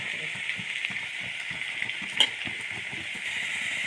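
Onion, shallots and dried chilli fry in coconut oil, giving a steady bubbling sizzle at close range, with a brief louder pop partway through and no talking.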